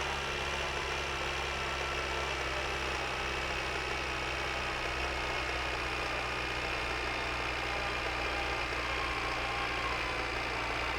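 A slow tractor engine in the driving game My Winter Car runs at a steady low drone, constant and unbroken throughout, with no voices.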